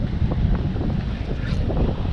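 Strong wind buffeting a fishing boat on an overcast, hot day, a continuous low rumble and roar of gusts across the microphone, steady throughout with no voices.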